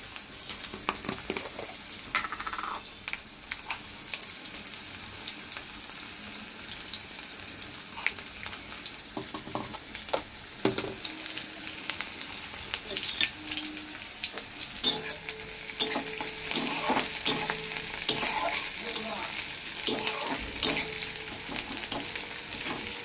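Whole cumin seeds frying in hot oil in a home kitchen, a soft continuous crackle and sizzle with scattered pops that grows busier toward the end, heard close with no talking.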